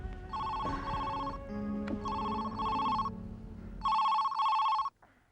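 A telephone rings in repeated electronic bursts, two rings, a pause, then two more, fairly close, with faint background tones and no talking.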